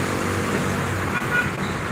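Steady roadway traffic roars past on a highway in Tagkawayan, Quezon, with large trucks and fast vehicles making a continuous dense rumble and a brief horn-like toot, close and loud throughout.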